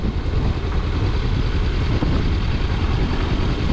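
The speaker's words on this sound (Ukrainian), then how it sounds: "Дуже м'якенько і тихо працює двигун." A 2017 Kawasaki Versus X scooter engine running close by, a soft, steady low rumble with even texture and no talk over it.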